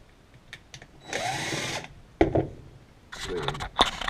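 A power tool drives out Phillips screws while a Savage three-speed is being repaired. It gives short whirring bursts, including one longer sustained whine, broken by clicks and handling noise, up close.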